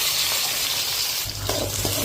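Loud, steady sizzling of shallots and curry leaves frying in hot oil, with a burst of crackling and stirring toward the end.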